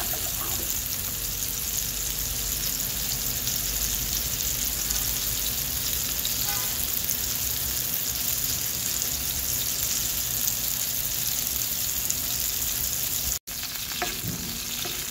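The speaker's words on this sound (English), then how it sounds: "You want to get a nice sear on the other side and let that butter melt in." Tuna steak searing in a pan of melting butter, giving a loud, dense, continuous sizzle throughout, with a brief break near the end and no voices.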